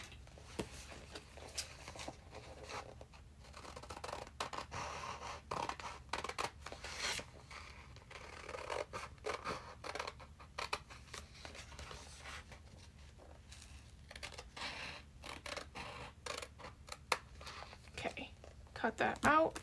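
Scissors snip and crinkle through a sheet of paper as it is cut out of a grid notebook for a collage, a run of small crisp cuts and rustles close by, with some talking at times.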